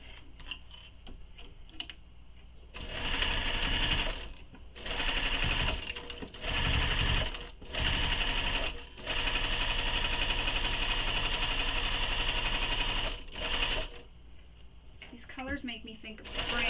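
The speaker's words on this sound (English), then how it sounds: "I'm going to sew all the way down that side." Sewing machine stitching a seam down the side of a sling pack: loud, steady mechanical whirring in several bursts of a few seconds each, separated by short pauses, alone without talk.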